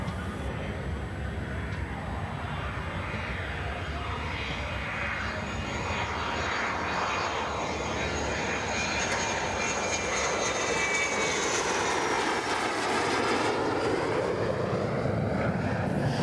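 An F-16 Falcon multi-role fighter jet, capable of Mach 2, roars loudly and steadily for about sixteen seconds, a dense broadband engine rush with a faint high whine that swells slightly toward the end.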